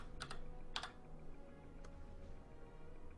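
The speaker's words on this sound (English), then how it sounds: "You can hear my keyboards." Computer keyboard keys are pressed while drawing in Photoshop, a few quick clustered clicks early on and one lone tap later, close but quiet over faint room hiss.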